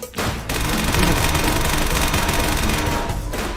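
Dense, continuous automatic gunfire from a Roblox Black Hawk Down military shooter game, loud and sustained with rapid overlapping shots and booms filling the whole stretch.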